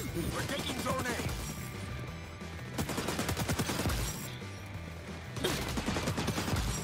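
Rapid automatic gunfire in the XDefiant shooter rattles in sustained bursts, loud and dense, broken by brief pauses and layered with crashing impacts.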